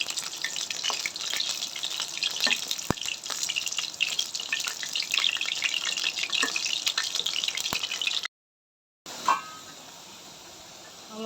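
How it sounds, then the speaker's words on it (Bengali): Potato pieces fry in hot oil for biryani, a continuous busy sizzle with occasional sharp pops, briefly cutting to silence near the end before faint frying resumes. "লাল লাল করে আলুটা ভাজা নিব।"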